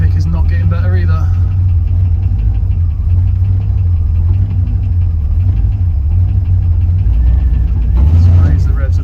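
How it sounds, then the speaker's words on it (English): A carbureted LS V8 in a second-generation Pontiac Firebird idles with a low steady rumble and a faint rapid lifter tick, with brief talk at the start and end. "That lifter tick is not getting better either."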